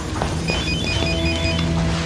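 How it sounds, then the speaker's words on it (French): A mobile phone rings with a steady, repeating electronic tone pattern, loud and continuous against a busy indoor background, with no speech over it. "Non, ce n'est pas l'alarme, c'est votre portable."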